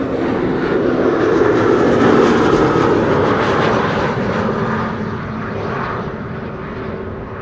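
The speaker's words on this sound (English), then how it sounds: "Britty Hopper coming in from Humberside, Embraer 190." An Embraer 190 airliner arriving from Humberside sounds as a loud, broad engine roar that swells and then slowly fades as it passes, with no talking over it.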